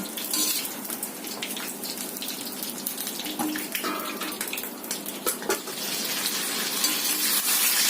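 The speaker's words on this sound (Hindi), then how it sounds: "बीच बीच में हम इसको ऐसे ऊपर नीचे हम इसको फ्राई करते रहेंगे ऐसे।" Stuffed eggplants fry in hot oil in a pan, giving a loud, continuous sizzle with scraping, clattering bursts as they are stirred and turned, all close and steady.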